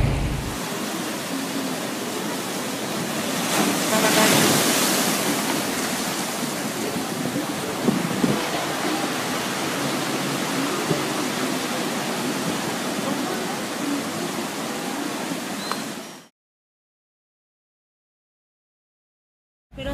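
Large ocean waves surge at Acapulco in a continuous loud roar of rushing water and surf, steady for most of the stretch with a brief swell early on, then cutting to silence.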